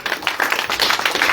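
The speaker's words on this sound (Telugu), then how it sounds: "చప్పట్లు కొట్టండి గట్టిగా." A church congregation at a praise meeting claps loudly and densely, many hands together in a brief, dense, close burst with no voices.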